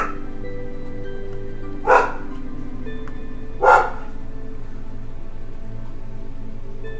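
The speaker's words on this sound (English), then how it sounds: "Oh, my puppies are waking up." Two short, loud barks from puppies, spaced about two seconds apart, stand out over a steady low hum with no talking.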